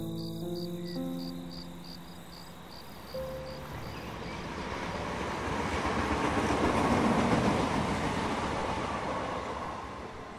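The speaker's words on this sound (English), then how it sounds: "Train is now arriving at Fairpoint Station." A train pulls into a station in a video game, with a loud steady rumble that swells and fades under a high insect-like chirping, and a short chime near the start.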